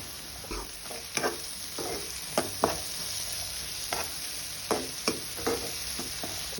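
Beans and mixed vegetables being stir-fried in a pan for vegetable fried rice: a steady sizzle under repeated scraping strokes of a spatula, close and fairly loud, with no talking.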